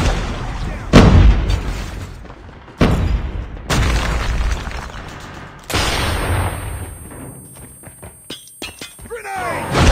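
Loud booming grenade blasts in a first-person shooter game hit hard and close, each followed by a rumbling, crackling tail, with further thuds and shattering debris between them.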